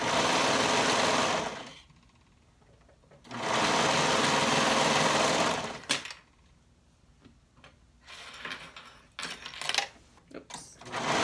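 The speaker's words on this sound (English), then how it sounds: "So we'll go ahead and sew this up." A sewing machine stitches a sleeve bodice seam in two loud, steady bursts of rapid motor whir, separated by a short pause, then quieter clicks and handling noises near the end.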